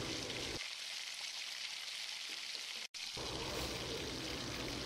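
Vegetables and curd sauté in oil inside a cooker with a faint, hissing sizzle and soft bubbling, steady and close, broken by a brief silent gap midway.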